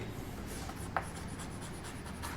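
Chalk or marker scratches across a board during a maths lesson on division rules, soft rhythmic strokes with a sharper tap partway through, quiet and close with no talking.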